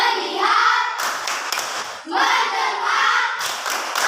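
Classroom of students chanting a rhythmic clapping routine in unison, shouted group voices alternating with bursts of sharp synchronized claps, loud and close.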